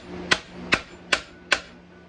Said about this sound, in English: Tap with the hammer.